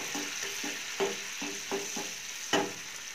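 Masala stirred into melted butter in a pan gives a soft, continuous sizzle broken by regular spoon scrapes and clinks, about one every half second, with a sharper knock near the end, close and fairly quiet.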